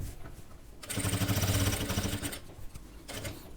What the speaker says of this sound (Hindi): यहाँ पर एक सिलाई हमने और लगानी है